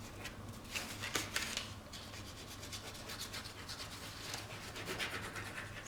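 Rubbing and scraping as a glued paper seam on a handmade box is burnished down by hand, a steady close-up friction sound with a few sharper scratches, quiet and alone without talk.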